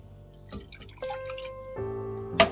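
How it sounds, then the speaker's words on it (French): A glass of water poured into a pot of garden tomato sauce for risotto, a short close trickle and splash with a few drips, brief and fairly quiet. "je viens rajouter l'équivalent d'un verre d'eau"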